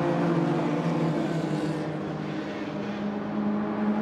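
A Maserati race car drives through a corner at the Hungaroring during a 2017 race, its engine a steady, loud droning whine that shifts pitch slightly as the car holds through the bend, with no talking.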